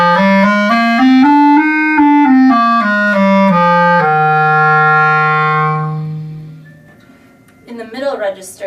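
A clarinet played in its low register gives a warm, dark run of separate notes that ends on a long held tone and then fades. A voice starts speaking briefly at the end.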